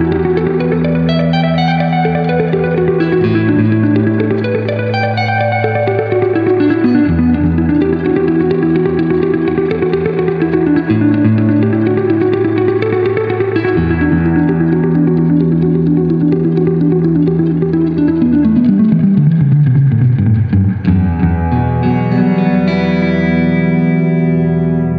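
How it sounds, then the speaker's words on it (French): An electric guitar runs through an inexpensive delay and reverb pedal, playing sustained chords and a descending melodic line with echoing repeats and a lingering wash of reverb, loud and continuous with no talking. "Pour un petit délai et une petite réverb comme ça, standard, assez sympa."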